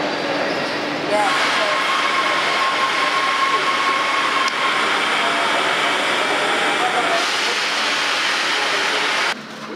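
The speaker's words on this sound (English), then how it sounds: "Daddy, is that the train?" Train rumbling past in London, a steady loud rushing roar with rail noise that holds for several seconds, with a child's and adults' voices talking over it.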